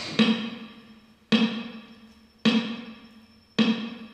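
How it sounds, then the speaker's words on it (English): Four evenly spaced metronome clicks ring out with a steady, slow pulse, each a bright tick decaying before the next. "I said I was going to show you how to practice it to the metronome."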